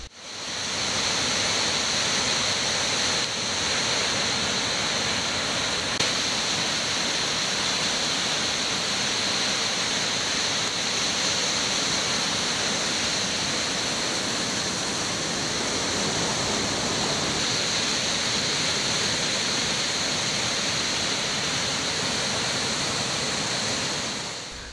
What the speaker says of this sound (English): Big Clifty Falls. It drops 60 feet and can have high flow volumes.